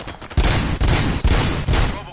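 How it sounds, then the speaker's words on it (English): Gunfire in the PS5 game RoboCop: Rogue City: several loud, sharp bursts of shots in quick succession, each followed by a short tail, over a steady background of game noise. "Gunshots?"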